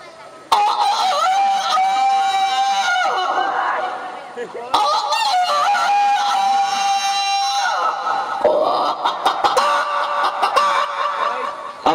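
A voice imitates a village rooster crowing at dawn, delivering long strained calls in two bursts, loud and close, with other voices and laughter mixed around them.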